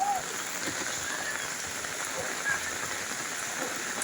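Light drizzling rain falls over floodwater covering yards and ground, a steady soft hiss of fine drops that stays even throughout, with faint background murmurs.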